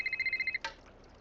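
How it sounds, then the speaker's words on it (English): A phone rings in a Nancy Drew mystery video game, a rapid electronic trill of pulsing beeps that stops abruptly and is followed by a single click, with quiet room tone after. "Oh, Nancy's phone is ringing."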